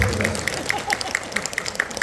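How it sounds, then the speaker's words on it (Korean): An audience at a Korean business seminar gives a short burst of rhythmic clapping that sounds like several people clapping in unison. Steady claps recur about every quarter second, and a voice speaks faintly underneath. "맞다고 생각하면 박수 한번 쳐줘."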